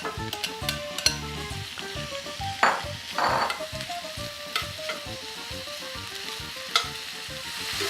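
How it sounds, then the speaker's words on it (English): Pancetta sizzles and crackles steadily in hot oil as it crisps, with occasional stirring scrapes and spits over a busy frying hiss, close and without speech. "We're going to put that in and cook it until it's very crispy."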